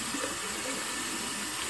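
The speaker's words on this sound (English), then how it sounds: "I go ahead and wet my brush." Tap water runs steadily as a synthetic shaving brush is wetted under it, giving a close, continuous splashing hiss with no talking.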